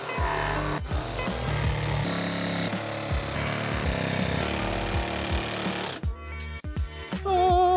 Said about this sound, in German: ich muss sägen, oder was?